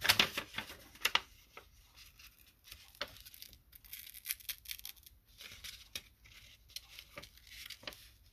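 Scissors trim a paper cut-out closely for a nature junk journal booklet, a steady run of small crisp snips and papery rustles, close and fairly quiet throughout.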